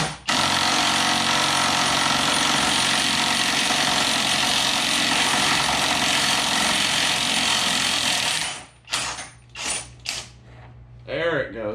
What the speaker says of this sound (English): with the impact wrench